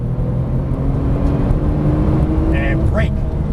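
A Porsche 991 Turbo S drives on a track with a loud, steady engine drone heard from inside the car, and a person speaks over it.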